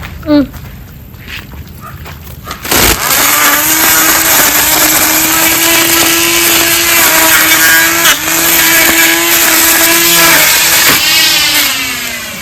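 A grass cutting machine bursts into a loud, close engine drone after a few seconds of quieter sound with some voice. It then runs steadily while cutting, with slight rises and dips in speed.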